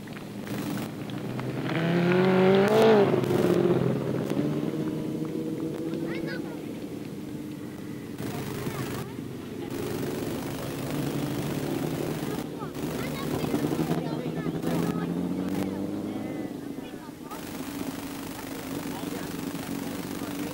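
Grasstrack racing sidecar engines in a heat at the 2003 British Masters, a loud rising and falling roar of several machines passing, with wind noise and a commentator talking over them.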